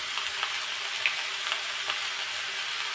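Cauliflower florets frying in hot oil in a pan, a steady dense sizzle with small pops and crackles scattered through it, close and fairly loud, with no voices.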